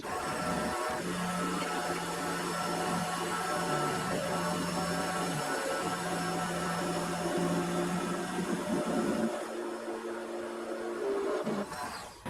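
A metal lathe turns a steel reinforcing bar, giving a continuous mechanical hum and whirr with a steady tonal drone that shifts pitch as the cut changes, with no talking.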